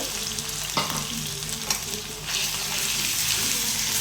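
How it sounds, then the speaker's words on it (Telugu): Ginger garlic paste and onions sizzle in a steel pan, a dense close frying hiss that swells louder partway through, with a couple of sharp spatula knocks early on; nobody speaks. "మాడు పట్టకుండా కదిలించుకుంటూ ఉండాలి మంచిగా, లేకుంటే మాడు పట్టేస్తుంది."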